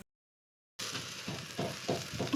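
Joha rice fries with onions in a pan for chicken pulao: after a moment of silence comes a close, steady sizzle broken by rhythmic scraping strokes of a spoon stirring.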